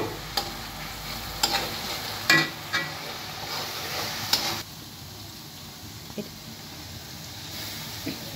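Fried onions (beresta) go into a hot pan and are stirred, a close sizzling hiss broken by several clicks and scrapes that eases into a quieter simmer after a few seconds, with no voices.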